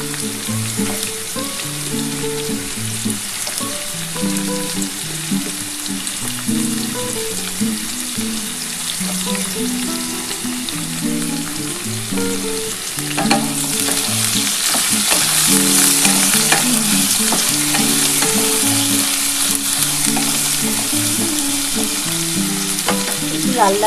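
Potatoes frying in oil for a poppy seed curry with ridge gourd and pointed gourd, a continuous close sizzle that grows louder and fuller about halfway through, with occasional stirring scrapes.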